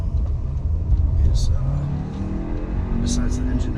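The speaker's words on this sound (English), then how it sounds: "besides the engine note, is just tire rumble from these really wide performance tires." Road rumble from really wide performance tires on a 2020 VW Arteon SEL, a steady low drone with engine note underneath while driving, alone without talk.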